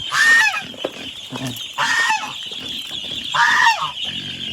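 Farmyard geese honk loudly in three separate bursts, close by, with chickens clucking in between at a rural farm field, the calls standing out against quieter background noise.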